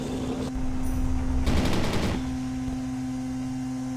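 Rapid machine-gun gunfire in Men of War: Assault Squad 2 during a tank battle, a dense burst of fast shots over about half a second against a steady low hum, with no talking.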